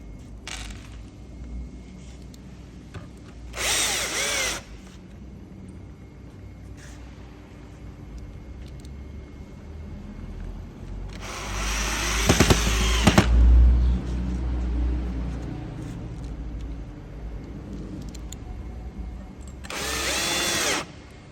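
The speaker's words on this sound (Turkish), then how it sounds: "Vidalarımızı demonte ediyoruz." A power drill drives screws while a chest of drawers is assembled, with several separate whirring bursts at about four, twelve to fourteen, and twenty seconds, loud and close, and a voice talks between them.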